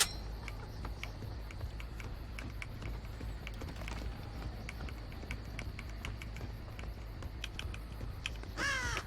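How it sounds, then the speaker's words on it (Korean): Crows caw repeatedly in Dead by Daylight over a steady loud ambient drone, with sharp caws scattered throughout and a brief warbling call near the end. "까마귀가 안 날리는 이유가 여기 있네."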